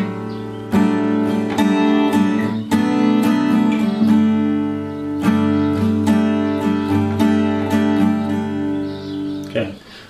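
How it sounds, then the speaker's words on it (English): An acoustic guitar is strummed in an even rhythmic pattern for a song, with about a dozen sharp strokes ringing over full chords, close and loud with no talking, ending on a muted stop. "So the strumming pattern is gonna look like this."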